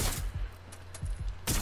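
Several sharp bursts of gunfire crack out in quick succession in Watch Dogs: Legion, loud and close, with brief gaps between shots.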